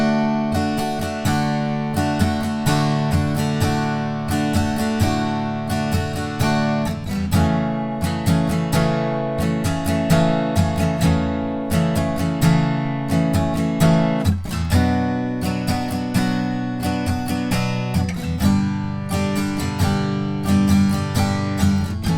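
Acoustic guitar strummed through the chorus chords of a song, steady rhythmic down and up strums ringing loud and close, with chord changes every few seconds and no voice.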